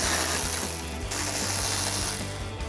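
A ratchet with a 10mm socket and extension loosens bolts on a 2012-2015 Toyota Tacoma grille, giving a steady, close run of rapid clicking pawl ticks with a brief pause midway.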